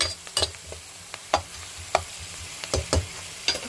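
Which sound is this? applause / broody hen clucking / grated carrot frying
grated carrot frying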